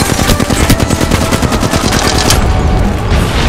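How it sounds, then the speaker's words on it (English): Rapid automatic gunfire from the Apex Legends video game rattles in a fast, steady stream of loud, close shots that keeps going for the whole stretch without a pause. "I'm getting fucking shot at!"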